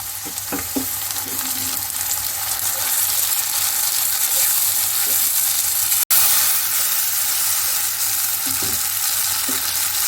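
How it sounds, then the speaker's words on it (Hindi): Spices, tomatoes and garlic-ginger paste sizzle and fry in a karahi over high heat for a beef karahi, a steady close crackling hiss with occasional stirring scrapes, no talk. "तेज आंच पर मसाले को भुनेंगे ताकि टमाटरों का पानी भी खुश्क हो जाए"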